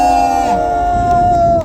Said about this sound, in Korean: 우리 모두 힘을 내시라고 격려의 함성을 2초간 와를 함께 큰 소리로